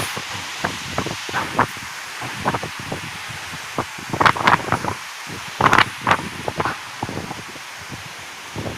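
Typhoon Tisoy's gusty wind rushes through trees in Bicol, leaves rustling in bursts and sharp crackling flurries over a steady background roar, with no voices.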